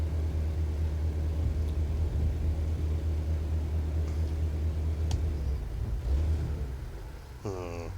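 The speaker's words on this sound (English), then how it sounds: "we're going to rev the engine to get that air pressure up" A truck engine in a trucking simulator game rumbles low and steady, then rises in a revving swell while building air pressure, with a brief higher-pitched sweep near the end.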